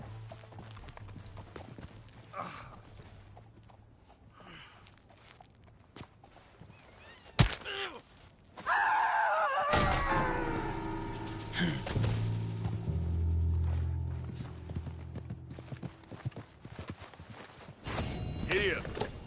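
Horse hooves clip-clop in a steady walking rhythm, starting out lighter and then sitting under a louder, broader wash of noise for the rest of the stretch.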